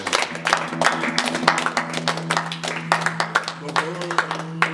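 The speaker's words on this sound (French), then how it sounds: "Applaudissons pour Jésus." Church congregation claps in broken, uneven bursts during worship, with steady sustained tones, likely music or voices, running underneath and people talking over the clapping.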